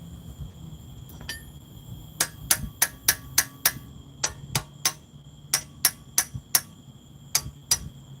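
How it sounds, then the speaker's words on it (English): A hammer strikes a car ball joint during a suspension repair, about twenty sharp metallic clangs in quick irregular bursts, close and loud over a low background hum. "I didn't mean to smack it with a hammer."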